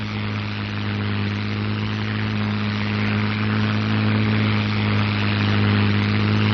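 North American P-51 Mustang engine on takeoff, a loud, continuous propeller drone with a deep steady tone that gradually builds in intensity, with no voices present.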